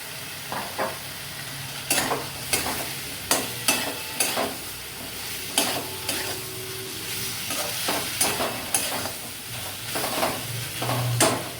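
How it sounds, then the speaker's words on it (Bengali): Spice paste for potol malaikari fries and gets stirred in a pan, steady sizzling with repeated spatula scrapes and knocks at an uneven rhythm, close and clear with no voices. "মশলাটা যখন ভালো করে এরকম ভাজা হয়ে যাবে তখন দেব আমি ভেজে রাখা আলু পটলগুলো।"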